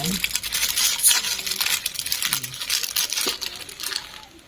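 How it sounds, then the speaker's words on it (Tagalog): Close bubbling and rattling of boiling water in a pot, a busy continuous patter with small metallic clinks. "Guys, kumukulo na siya."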